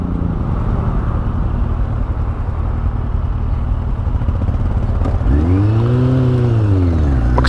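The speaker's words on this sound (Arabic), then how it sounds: "غير بالصوت ديال الموتور" A Kawasaki Z800 motorcycle engine runs loud and close, a steady rough drone that swells into one rising and falling rev near the end, with no voices.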